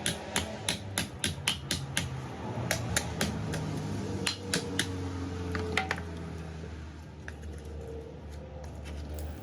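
Sharp metallic hammer strikes on a junkyard Porsche 912 body ring out in a quick run of about a dozen blows, then scattered hits over a low background hum.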